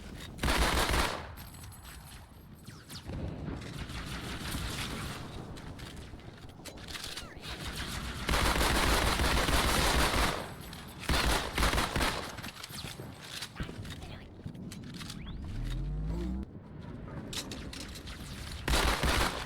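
Bursts of automatic gunfire from Halo 2 on the Outskirts level, with rapid streams of shots recurring through the scene amid game effects and some voices talking.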